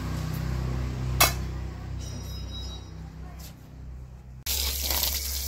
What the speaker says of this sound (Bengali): এবারে আমি মাছগুলোকে ভালো করে ধুয়ে নেব।